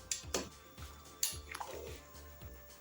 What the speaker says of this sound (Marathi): आता ह्या तयार करून घेतलेल्या बाफल्या आपण याच्यात सोडायच्या